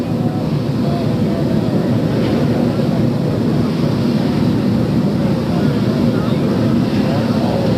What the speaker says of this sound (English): The helicopter bearing new President Lyndon Johnson is about to take off.